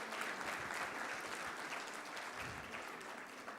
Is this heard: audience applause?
yes